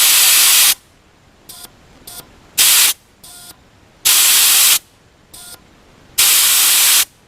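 Air hisses out of a tire through an E-Z Tire Deflator while airing down, in loud, sharp bursts of about a second or longer, separated by softer, shorter puffs and quiet gaps.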